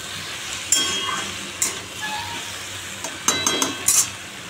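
Okra frying in a pan with salt and turmeric, sizzling steadily up close while a utensil stirs and clinks against the pan in short bursts; no talk.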